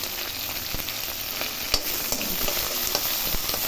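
Dried red chillies fry in oil with green chillies, carrot, peas, ginger, coriander and curry leaves, a dense, even sizzle close up with occasional light clinks of stirring and no voices.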